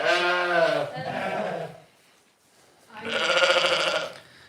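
Sheep on a farm during lambing season bleat loudly and close by, one long wavering call followed by a shorter one, a brief pause, then another strong bleat.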